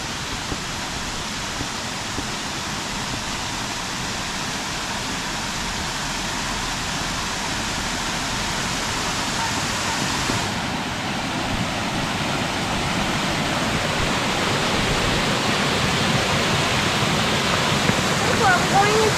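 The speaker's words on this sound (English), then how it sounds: "I'm gonna go check out the waterfall." A waterfall at Dogwood Canyon Nature Park gives a continuous broadband roar of falling water, steady and fairly close, growing slightly fuller partway through, with faint voices nearby.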